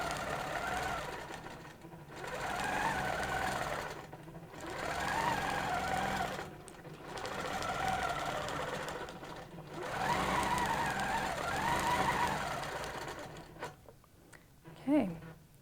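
A sewing machine stitching a quilting loop guided by a ruler: steady, fast mechanical whirring in long runs with short pauses between them, close and moderately loud, ending in a few light handling knocks.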